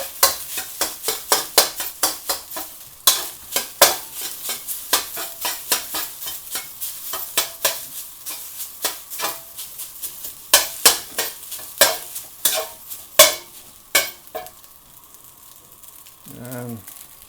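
Egg fried rice being stir-fried in a pan: a steady sizzle with repeated scraping stirs at an irregular, busy rhythm, close and fairly loud, tapering off near the end.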